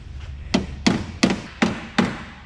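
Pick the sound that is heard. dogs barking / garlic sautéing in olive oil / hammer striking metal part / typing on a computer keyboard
hammer striking metal part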